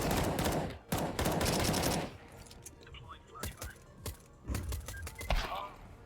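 Bursts of AK rifle fire in Counter-Strike 2, loud rapid volleys in the first two seconds followed by sparser single shots and game sounds, some overlapping talk.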